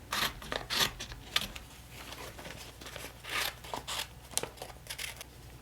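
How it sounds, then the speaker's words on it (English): Paper days of the week being cut out by hand for a February planner layout: a run of close, crisp snips and slight paper rustles, irregular and fairly quiet, with no voice. "let's also cut out the days of the week"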